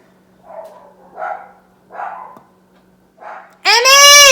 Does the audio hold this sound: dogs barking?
yes